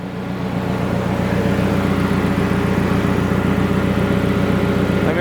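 Mercedes-Benz engine running smoothly at a steady, even idle, a loud, close, continuous low rumble with a regular pulsing beat and no talk.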